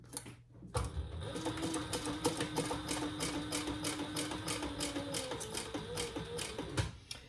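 A sewing machine runs steadily and quietly as it top stitches and bastes around a bowler bag, its quick needle ticking in an even rhythm over a low motor hum, with a brief stop near the start.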